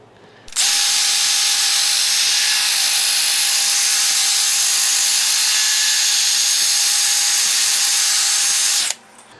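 A power tool spins steadily inside the rusty cylinder of a seized Honda CX500 engine, a loud, constant high-pitched whir lasting about eight seconds before cutting off.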